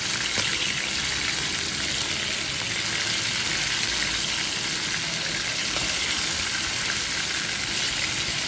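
Fish frying in a pan at home, a steady dense sizzle and crackle filling the whole stretch with no one talking, while rain falls outside.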